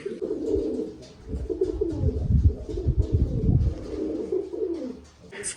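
Pigeons coo repeatedly in low, throaty rolling calls, close by, with a soft flutter near the end.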